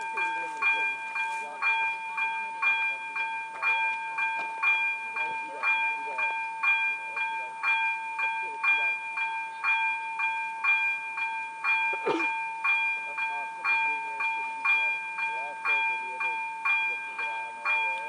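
At the Paskov railway level crossing, a warning signal rings in a steady, regular repeating pattern while a train passes, with a brief louder rumble partway through.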